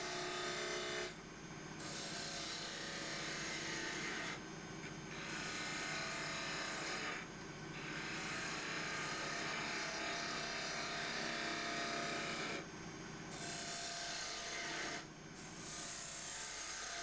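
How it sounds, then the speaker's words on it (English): Continuous rasping and whirring of elm being turned and shaped into a spinning top on a lathe, broken by a few brief pauses as the tool lifts away. "Just starting to shape the end of the top of the spinning top."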